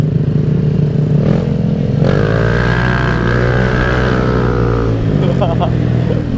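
Bored-up Yamaha Beat Street motorcycle engine revving, a loud close buzzing drone that rises sharply in pitch, holds, then drops back, with wind rush throughout and a voice talking over it.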